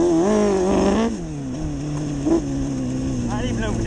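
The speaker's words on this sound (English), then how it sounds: "Got a bit of a misfire there, though." A CBR DRZ 600 hybrid motorcycle engine runs close and loud with a wavering, uneven note, dropping abruptly about a second in and stuttering with a brief misfire blip before settling into a rough idle-like drone.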